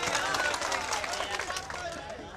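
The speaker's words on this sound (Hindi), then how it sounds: "तो जोरदार तालियां बजाइए" Crowd at a mushaira poetry recital applauding, a sustained wash of many hands clapping with light babble, steady then easing slightly toward the end.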